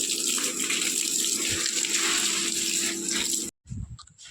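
Water pours steadily from a pipe or tap, a loud close gushing that carries on evenly before stopping abruptly, followed by a few brief splashes.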